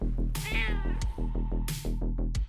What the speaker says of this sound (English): I have a cat.